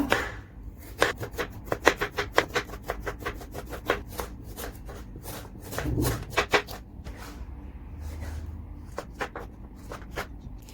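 A knife chops bitter gourd into small pieces on a board, rapid sharp taps in quick irregular bursts, close and crisp, with brief pauses between runs.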